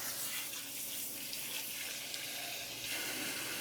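Water runs steadily into a stainless steel brite tank being filled for cleaning with PBW, a continuous close hiss with no talk.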